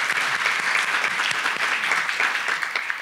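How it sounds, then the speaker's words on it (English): An audience at an annual Supreme Court luncheon applauds, a close, dense wash of clapping that holds steady at full strength for the whole few seconds. "Let's give her a round of applause."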